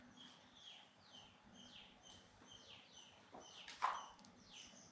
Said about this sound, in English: At a distance, the birds are singing.